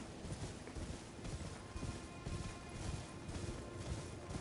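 Rhythmic clip-clop of horse hooves in the video game Elden Ring at a steady trotting pace, faint and repeating throughout.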